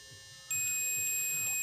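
A digital multimeter gives a steady continuity beep as its probes touch both legs of a fuse resistor in an LED bulb circuit, a clear sustained high tone that starts abruptly and holds to the end, close and loud.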